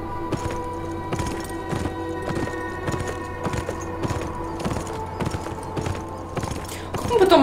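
Galloping horse hooves in the video game Beyond Two Souls: a regular, repeating clip-clop of hoofbeats close by over game ambience, with someone talking over it and a brighter burst of sound at the end.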